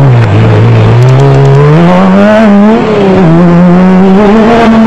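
Off-road race vehicles set off from a start at a South African off-road race, engines loud and close, revving and climbing in pitch as they accelerate away.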